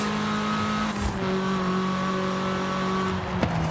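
A car engine in Forza Horizon 5 holds a loud, steady high rev, then downshifts with a quick drop in pitch and revs on, the tone rising and falling smoothly.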